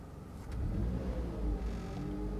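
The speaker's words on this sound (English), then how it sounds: "And now again it's going to rev to 1500 RPM and hold" A Mitsubishi Lancer engine revs up during a transmission teach-in procedure, then holds at a steady raised speed, a moderate, close hum.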